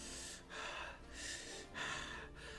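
A voice imitates an anime breathing technique with three or four loud, forceful rhythmic breaths, each a rushing hiss with short pauses between, heard close and alone.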